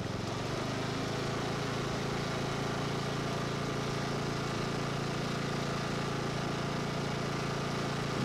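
A Cub Cadet XT1LT42 42-inch IntelliPower riding mower runs with the blade disengaged and the throttle turned up. Its engine holds a loud, steady, continuous drone close by, with no talk over it.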